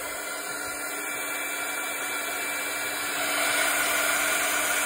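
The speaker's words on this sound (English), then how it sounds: "my heat gun" A heat gun blows a steady, loud hissing rush of hot air over embossing powder, a constant broadband whoosh that grows slightly louder toward the end.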